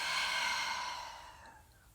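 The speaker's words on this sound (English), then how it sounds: "exhale all the way out" A single deep exhale during yoga breathing, a long airy breath released close up that starts strong and fades steadily over about two seconds.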